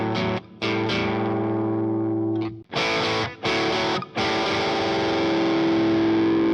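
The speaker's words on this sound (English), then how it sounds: "Personally, I think the SD1 works better for that vintage classic rock sound." An electric guitar runs through a Boss SD-1 overdrive pedal for a vintage classic rock tone, playing a few loud, sustained distorted chords and notes with short pauses between them and a long ringing final chord.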